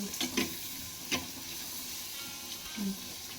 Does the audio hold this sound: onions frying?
yes